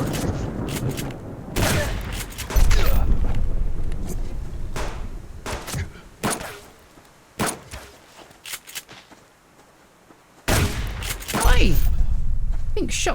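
Shotgun blasts from the survival game Subsistence: several loud, sharp booming shots in irregular bursts with quieter gaps between, mixed with footsteps and game ambience, and someone talking over parts of it.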